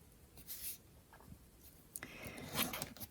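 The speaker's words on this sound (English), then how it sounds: "So I'm going to mark where I need to cut." Pen marking a cut line on vellum paper, a few soft, close scratching strokes in short bursts over quiet room tone, with no voices.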